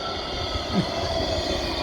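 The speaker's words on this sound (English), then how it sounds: "A lovely Bombardier tram as well." A Bombardier tram passes at the Meadows Embankment stop in Nottingham, giving a steady, close, rolling rumble with a faint wheel whine that holds for the whole stretch.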